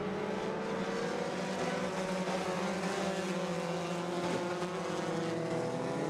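Race cars lapping at Irwindale Speedway, a continuous loud engine drone with shifting, overlapping pitches as several cars run together, no speech over it.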